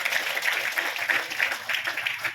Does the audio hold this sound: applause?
yes